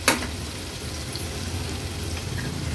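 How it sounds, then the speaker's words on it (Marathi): Crushed ginger-garlic sautéing in hot oil after a pinch of asafoetida, a steady close sizzle with a brief clatter at the start, then a continuous gentle frying hiss. "आलं लसूण क्रश तेलावर थोडंसं परतून घ्यायचं आहे"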